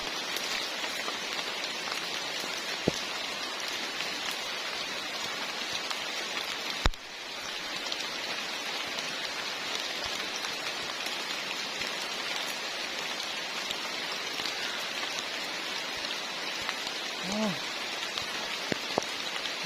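Steady rain falls outdoors during a bird hunt, a constant even hiss of drops on surfaces lasting throughout, with a sharp knock partway through and a few faint bird chirps.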